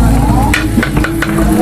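Onions sautéing for sinigang in a pan at a resort, with a steady close sizzle and a few stirring scrapes throughout, and no talking.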